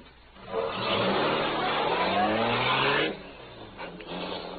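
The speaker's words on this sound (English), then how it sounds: "the powerful black car roared through the city streets" The Green Hornet's powerful black car roars through city streets in an old-time radio drama, a loud engine rising in a sustained revving surge that drops off suddenly into a quieter idle.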